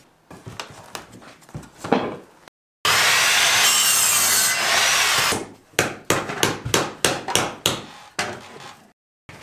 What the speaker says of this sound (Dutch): Ik was zo fijn aan het zagen.